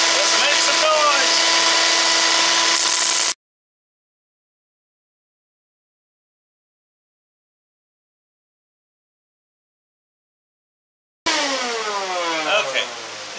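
A belt sander running with an 80 grit belt, a loud whining grind with pitch sweeps, cutting out into silence for several seconds, then starting again with rising tones.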